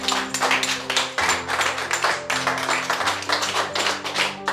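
Church congregation clapping in rhythmic, repeated claps over sustained music at a morning worship service, loud and close, with no speech over it.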